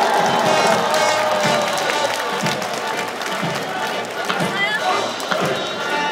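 A crowd cheers and claps as a navy military band enters at the Jinhae Gunhangje military music festival, a continuous rowdy roar with rhythmic bursts, mixed with a public-address voice talking over it.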